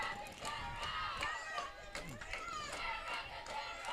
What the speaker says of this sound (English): Got some cheering going on in the Stigler dugout.